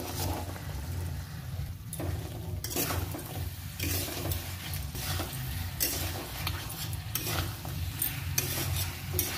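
Dry fish wrapped in pumpkin leaves fries in a wok with a steady crackling sizzle, broken by recurring bursts of stirring and scraping, and no one speaking.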